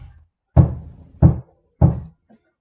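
Three firm, hollow knocks on a wall, evenly spaced and close, each a dull thump with a short decay, followed by a faint soft tap at the end.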